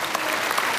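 Applause from a studio audience at a televised German folk-music variety show in Sulzbach, a dense, steady wash of clapping filling the whole short stretch with no voices over it.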